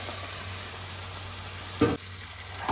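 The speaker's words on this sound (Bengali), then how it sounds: "চিকেনটাকে দই দিয়ে ম্যারিনেট করে রেখেছিলাম, এবার চিকেনটা দিয়ে দিলাম।" Yogurt-marinated chicken sizzling in a hot pan, a steady low frying hiss with a brief clatter as pieces drop in, no talking.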